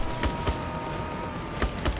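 Gunfire in Just Cause 3: sharp shots ring out in pairs, two near the start and two near the end, over a steady rumbling background.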